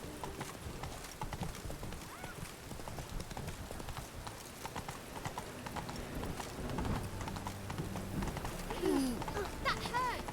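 A horse gallops in The Witcher 3 video game, fast hoofbeats running continuously at moderate loudness beneath game sounds, with a brief whinny-like cry near the end and a voice talking over it.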